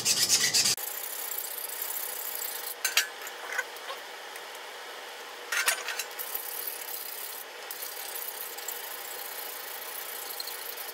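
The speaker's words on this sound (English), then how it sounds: "now I'm going to grind out a little bit of this just to make it more close fitted to the blade" A grinding tool works a PVC sword piece to fit it closer to the blade. After a loud opening burst, the grinding continues in rough, intermittent scraping passes with short louder spurts, close and without voices.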